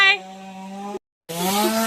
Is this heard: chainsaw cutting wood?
yes